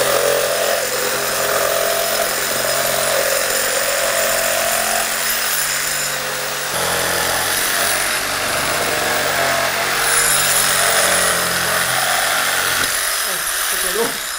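Power saw cutting into a poplar log to shape a saddle tree, a loud sustained whine and buzz that shifts pitch as it bites, with a voice speaking over it at times.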